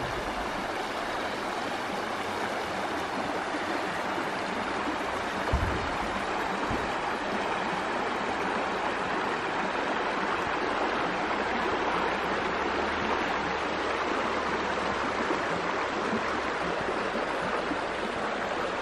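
A river in Redwoods National Park flows steadily in a continuous broadband rush of water, loud and close, holding even for the full length with no voices.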